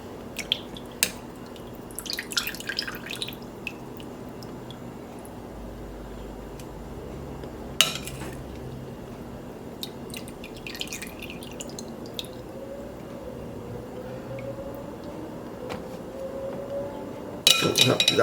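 Liquid drips from raw chicken pieces held over a bowl before they go into flour, giving sparse, quiet drips against a soft kitchen background, with a few clinks and a louder clatter at the very end.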